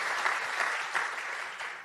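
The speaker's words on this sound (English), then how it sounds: "can I have another round of applause for all our speakers, please" A food safety forum audience claps for its speakers after an opening session, producing a dense, even wash of applause with a few louder swells, heard alone and moderately close.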